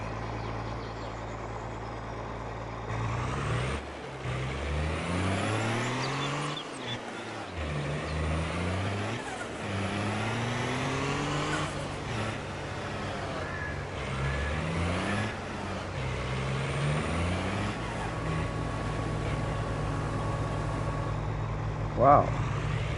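A truck engine in the video game Farming Simulator 22 drones steadily and revs up and down repeatedly, with someone talking over the engine throughout.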